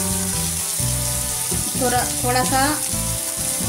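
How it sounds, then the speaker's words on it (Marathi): Onion and curry leaves sautéing in a pan for rava upma give a steady, close sizzle, with a brief voice speaking over it. "कांद्याचा कलर बदलेपर्यंत आपल्याला कांदा परतून घ्यायचा आहे"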